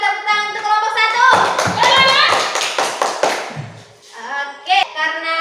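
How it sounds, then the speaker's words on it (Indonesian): Students in an elementary classroom clap for a presenting group, a burst of tapping hand claps rising in the middle of the clip, with children's voices and chatter before and after. "sekarang berikan tepuk tangan untuk kelompok 1"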